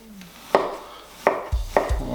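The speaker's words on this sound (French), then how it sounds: "on va couper des tranches fines d'oignons" A knife slices onions very thin on a cutting board, giving four sharp, close chops spaced irregularly and separated by short pauses.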